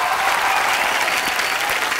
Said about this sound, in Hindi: जोरदार तालियां एक बार कार्तिक के लिए